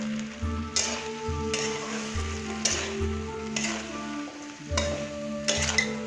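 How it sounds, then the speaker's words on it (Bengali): Pieces of fried fish stir-fried in chili sauce with capsicum, a steady sizzle broken by repeated scraping strokes of a spatula in the pan, close and fairly loud with no talking. "এবার ভাজা মাছগুলোকে এর সাথে একটুখানি কষিয়ে নেব।"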